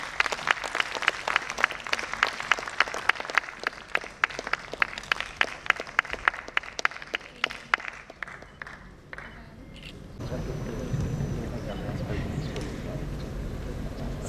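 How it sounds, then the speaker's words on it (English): An audience at the NMOCON 2023 medical conference at AIIMS Kalyani claps in a brisk, sharp rhythm for several seconds. The clapping fades into a murmuring room with voices. "Give a big round of applause."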